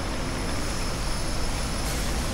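A large airplane at an airport makes a steady, loud broadband roar that stays constant throughout with no voices.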